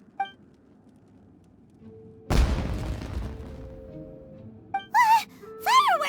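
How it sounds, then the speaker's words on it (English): A single loud firework boom bursts from near silence and trails off, then whistling, wavering tones sweep up and down afterward, set in the Genshin Impact game around Inazuma. "It sounded like fireworks."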